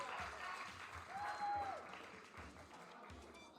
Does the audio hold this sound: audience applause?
yes